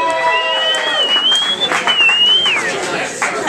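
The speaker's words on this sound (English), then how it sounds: "Clap for the lovely MasterDaters," A live show audience applauds the MasterDaters at The Demo, with dense clapping and crowd chatter heard up close, while a whistle-like tone glides over the top.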